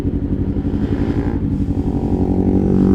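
Motorcycle engine idling and pulsing through a DX Generation Sphere Oval aftermarket exhaust, a close, loud, steady low throb with a rapid rhythmic beat throughout.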